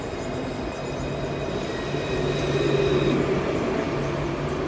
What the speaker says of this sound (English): And there goes the tram.